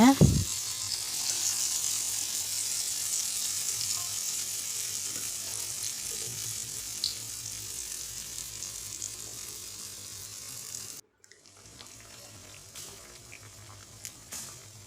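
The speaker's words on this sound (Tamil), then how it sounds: "இப்போ பழத்தை மாவில் போட்டு டிப் பண்ணி ஃப்ரை பண்ணிக்கோங்க" Batter-dipped banana fritters (Kerala pazham pori) frying in hot oil, a steady, bright, close sizzling hiss that holds for most of the time, then cuts out briefly and returns quieter.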